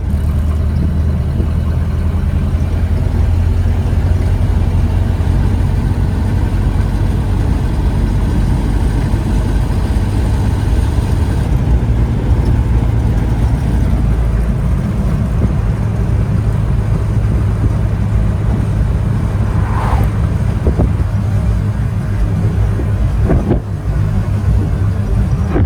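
A Model A pickup truck's engine drones loud and steady while driving in third gear at low speed, a constant low rumble throughout with no talk.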